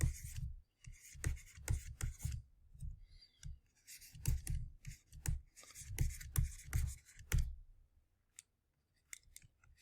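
A pen scratches and taps on a writing surface while a dependency diagram is drawn for a chain rule math lesson, in close, irregular bursts of strokes and clicks that go quiet near the end.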